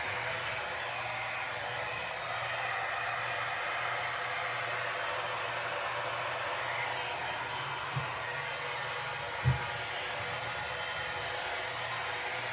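A hair dryer blows a steady, even rush of air to dry a thin layer of paint on a bathroom cabinet, holding constant for the whole stretch with only a couple of faint bumps partway through.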